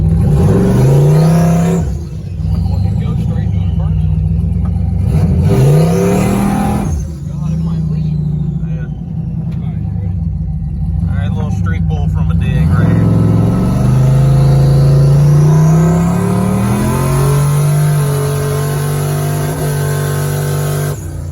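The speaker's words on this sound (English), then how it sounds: "Does all right from a dig for a 600 horsepower street car." A 600-horsepower 1995 Ford Mustang street car revs and accelerates hard, its loud engine rising through repeated pulls and gear changes, with a voice speaking in the background.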